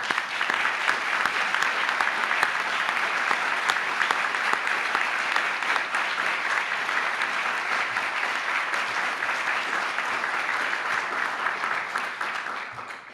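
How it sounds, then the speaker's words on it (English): Dense, sustained applause from an audience at an awards event, many hands clapping together in an even roar that holds for several seconds before tapering slightly at the end. "So a quick round of applause."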